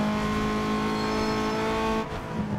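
Honda Civic engine in the video game Need For Speed Underground 2, a loud sustained whining drone that holds steady and then dips briefly as if shifting, with no talk over it.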